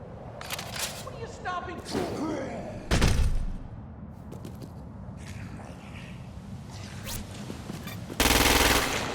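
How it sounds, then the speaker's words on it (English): Gunfire in the video game Crackdown 2 as the player shoots freaks, bursts of shots and heavy thuds scattered through the stretch, with a loud blast near the end, all over game sound effects and background ambience. "Use precision targeting to shoot the freak's head or legs."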